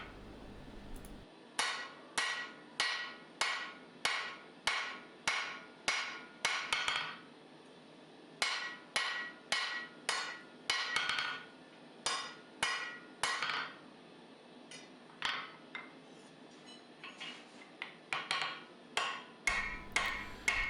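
A hammer forges a knife blade from round steel stock, ringing in quick rhythmic bursts of sharp metallic strikes separated by brief pauses, loud and close, with no talking.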